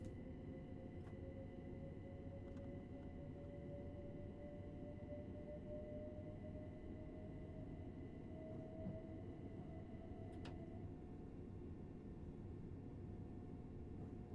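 A train in Train Sim World 6, a Lioness-liveried class 378, pulls away from the platform at London Euston. A steady low rumble with a rising motor whine continues throughout, with no talking.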